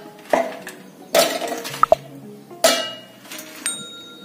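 Several sharp, glassy clinks and clatters of hard pieces dropping into a mixer grinder jar, coming in irregular bursts with quiet gaps between them.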